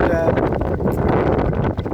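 Strong wind gusts buffet the microphone aboard a small sailing boat on a river, a steady loud roar with rustling and flapping textures throughout.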